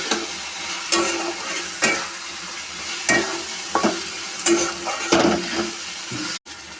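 Spices for a mushroom curry sizzle and fry in hot oil in a pan, with a spatula scraping and stirring in regular strokes about once a second, close and steady with no voices.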